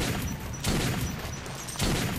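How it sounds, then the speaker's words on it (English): Shotgun blasts in the video game Metro 2033, two or three heavy, booming shots spaced about a second apart, loud and close. "You're gonna get shotgun right in your face."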